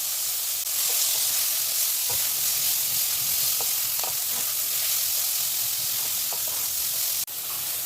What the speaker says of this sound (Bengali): ফুলকপিটা চারিদিক দিয়ে খুব ভালো করে ভেজে নিতে হবে